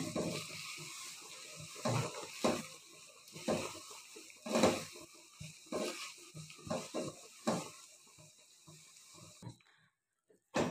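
Olive pickle cooking in a pan as the oil separates, a spatula scraping and stirring in repeated close strokes over a light, constant sizzle, stopping abruptly near the end.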